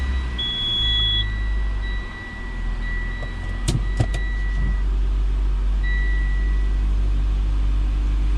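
A 2013 Mitsubishi Outlander Sport cranks and its engine starts after warning chimes, then settles into a low steady idle, close by.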